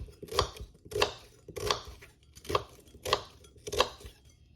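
An onion is chopped on a board with six evenly spaced, close knife strikes, each a crisp thud, with quiet gaps between them and no talking.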